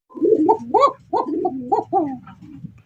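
Several soft, throaty coos from pigeons at a pigeon farm, a close series of rising and falling calls in short bursts with brief pauses between them.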